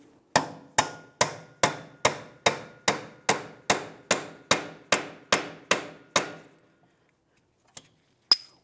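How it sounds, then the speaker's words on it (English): Fourteen sharp metallic strikes of a hammer on a punch against a rear CV axle nut of a 2009-2019 Ford Flex at a steady, fairly quick rhythm, followed by a short pause, then a couple of lighter taps. No talking. "Use a hammer and punch to break this free."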